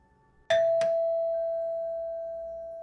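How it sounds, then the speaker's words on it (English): A house doorbell sounds a quick two-strike chime, then a single clear tone rings on and slowly decays in an otherwise quiet room. "But I also couldn't listen to the doorbell ring for 10 minutes."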